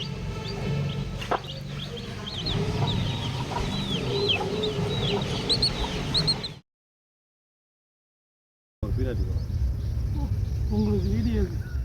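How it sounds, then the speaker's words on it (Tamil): A mother hen clucks near her newly hatched chicks, with repeated soft clucks and chirps over a busy background, cut by a brief gap of silence before the calls resume. "தாய் கோழியின் சத்தத்தை கேட்டு அந்த கோழி குஞ்சு நகர்ந்து செல்லும் காட்சி சோகத்தை ஏற்படுத்தி உள்ளது"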